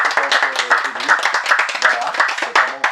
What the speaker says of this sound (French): Est-ce que vous pouviez applaudir?